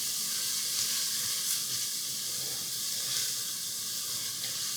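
Finely chopped onions sizzle in a pan on a stove, giving a steady, even frying hiss that stays constant and fairly close throughout.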